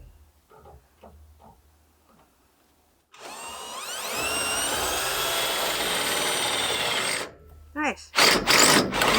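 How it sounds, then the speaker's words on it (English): A power drill or impact driver runs steadily for about four seconds, loud and close, driving a bolt into a solar array mount on a skoolie bus roof, with a few clanks and faint talk at the start and bursts of noise after it stops. "let me tighten your bolt here"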